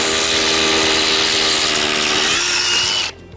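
A power drill boring deeper into the ground for an ornamental fence post's wedge anchor, a loud, steady, high-pitched whine with gritty grinding that runs continuously and then cuts off abruptly near the end.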